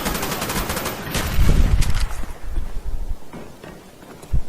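A rifle in Call of Duty Black Ops fires rapid bursts of close, sharp shots, loud and dense early on, then thinning to scattered reports and a final punchy shot.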